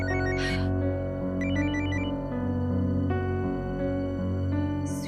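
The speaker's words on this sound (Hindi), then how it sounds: "स्वीटी का फोन, उससे क्या हुआ?" A telephone rings steadily and loudly for several seconds, its electronic ringtone repeating in a patterned melodic sequence with no voices over it.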